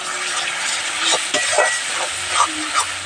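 Whole spices are stirred into frying onions in a pan for a butter paneer masala, giving a steady hiss and sizzle with scraping clinks of a spoon at close range.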